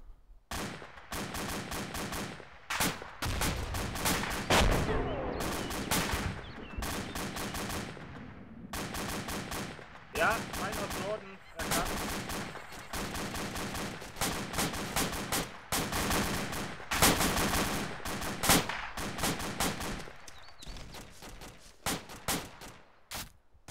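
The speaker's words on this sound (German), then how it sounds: "Ich sehe da ein paar Schüsse, die im Wald reinfliegen." Rapid bursts of automatic gunfire in the video game Arma 2 crackle almost continuously, with short pauses between volleys and single shots mixed in, loud and close.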